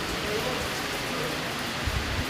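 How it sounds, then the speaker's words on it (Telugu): Heavy rain pours down in the Banjara Hills area of Hyderabad, a dense, steady hiss of rainfall close by with a few louder drops near the end. "ఇక్కడ భారీ వర్షం పడుతుంది బంజారా హిల్స్ ఏరియాలో కూడా"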